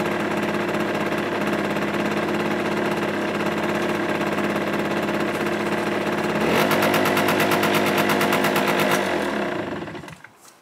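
Small moped engine idling steadily with a buzzing two-stroke tone, then revving higher and more urgently for a few seconds before dropping off and cutting out at the end.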